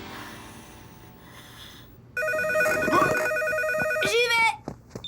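A cartoon telephone starts ringing, a loud electronic trill that cuts in partway through and rings steadily, ending with a rising bleep as it is answered.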